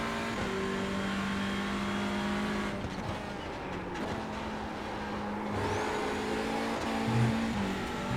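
A Hyundai Veloster TCR race car laps Oulton Park, its engine droning steadily and changing pitch through gear shifts, loud and continuous with no talking.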